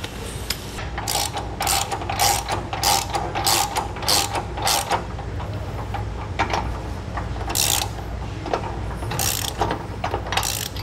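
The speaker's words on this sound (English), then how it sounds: "now we can go ahead and tighten up our bolts and then torque everything back down" Wrench ratcheting to tighten bolts on the bracket of a Reese Dual Cam II weight distribution hitch, a close, steady series of quick clicking bursts repeated through the whole stretch, with no talking.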